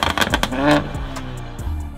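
A tuned car in sport mode revs loudly up close, then drops back to a rough, burbling idle with crackles and a second short blip of the throttle.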